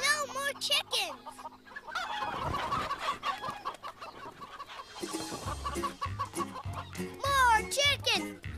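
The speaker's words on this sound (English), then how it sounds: "Oh no, more chickens!" Chickens cluck and crow nearby in a busy, layered mix, with a voice and other people talking over the birds throughout.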